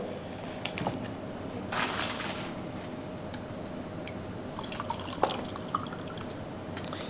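Water poured from a bottle into a tumbler, a faint, quiet trickle and splash with a brief fuller gush early on, set against steady low background noise.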